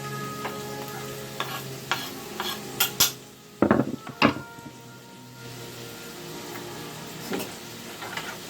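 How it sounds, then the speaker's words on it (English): Onions fry in bacon fat in a pan under a steady soft sizzle, broken by several sharp clacks and scrapes as a utensil stirs them against the pan. "pop that on in there with those onions and that bacon fat and stir that stuff around"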